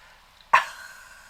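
A pet dog indoors gives one short, sharp bark from across the room, faint against a quiet background, with a brief fading tail.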